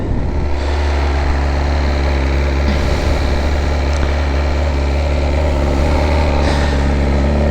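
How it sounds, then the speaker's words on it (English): A 2024 BMW S1000RR motorcycle engine idles steadily and loudly up close after a cold start, a constant rough drone with no change in revs throughout. "Like the cold start sounds alright, after that sounds like a vacuum cleaner"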